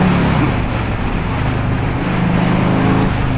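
A 1984 Harley Davidson Tour Glide motorcycle engine runs loud and close on a scenic road, a dense steady roar with wind rush and no clear separate revs.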